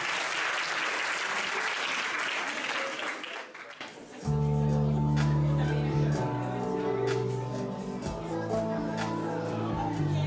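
Applause for a performer at a concert fades out after about four seconds, and music with sustained tones follows.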